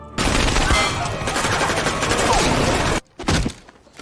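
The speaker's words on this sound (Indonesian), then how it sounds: "Baku tembak pun kemudian tak terhindarkan." Sustained gunfight from an action film, rapid machine-gun bursts and overlapping shots filling about three seconds at close range, then cutting off, followed by a brief sharp burst and fading echo.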